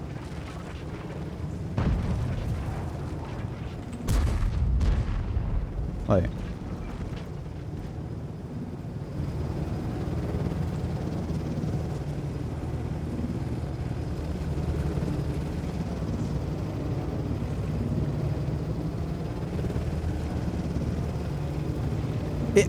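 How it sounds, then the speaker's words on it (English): A World of Tanks AAT60 tank gives off a low, steady helicopter-like droning rumble that runs throughout, with a few heavier booms early on and a brief spoken remark. "Why does it sound like a helicopter?"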